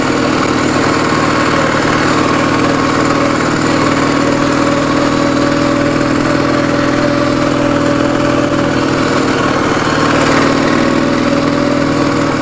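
A Ural motorcycle engine idles steadily, a close, loud, constant low drone with a faint vibrating buzz and no speech.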